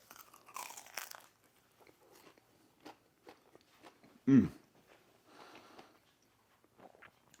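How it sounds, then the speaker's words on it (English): A bite into a crispy tuna melt tortilla, a single loud crunch near the middle followed by quieter close chewing and faint rustles, with no talk. "And to prove it, I'm gonna take a bite."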